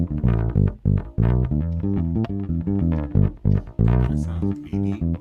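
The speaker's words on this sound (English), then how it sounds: "This gives you the neck pickup" Yamaha BB604 bass guitar played through its neck pickup alone, a quick run of plucked notes with firm attacks and ringing low tones, close and clear with no talking.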